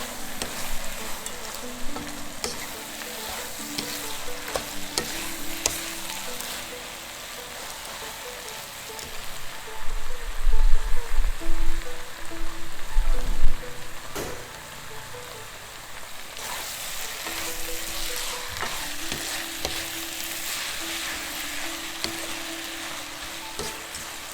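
Longevity noodles with bean sprouts and green onion are stirred in a frying pan, giving a steady sizzle with scraping and tossing throughout and a few louder, heavier stirs near the middle.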